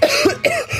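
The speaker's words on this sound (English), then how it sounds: "Peregrine is coughing her lungs out the second she attempts to eat this thing." A close, loud burst of harsh coughing in a short fit of two or three hacking coughs, from a person choking while trying to eat fried food at a food stand.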